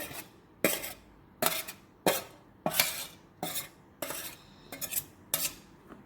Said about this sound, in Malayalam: എല്ലാം കൂടെ നല്ലപോലെ ഒന്ന് മിക്സ് ചെയ്യാം